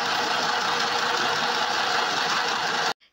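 A mini sewing machine stitches at a steady, fast rhythm, loud and close, with a dense mechanical whir that runs unbroken for about three seconds and then stops abruptly.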